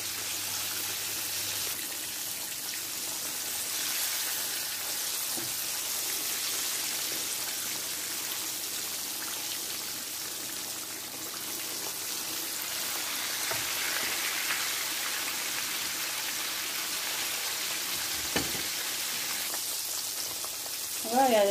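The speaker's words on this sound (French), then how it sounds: "Là, j'ai mis la tête et la queue qui sont en train de frire." Tilapia head and tail fry in hot oil with a continuous, dense crackling sizzle that holds steady from start to finish, close and fairly loud, with a brief clatter near the end.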